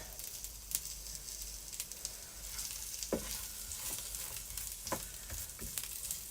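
Teriyaki salmon noodles frying in a pan, giving a steady, soft sizzle with scattered crackles and occasional stirring scrapes throughout.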